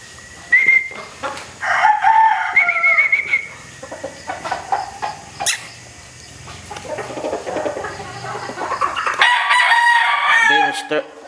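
Gamefowl roosters, including California White Claret and straight-comb lines, crow loudly and close, several drawn-out calls overlapping with scattered clucks in a farmyard.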